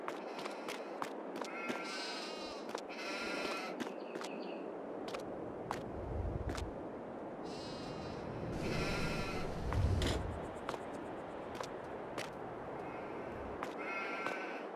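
Sheep bleat repeatedly at a farm in Farming Simulator 22, several overlapping calls in bursts over steady ambient farm noise, moderately near, with no talk.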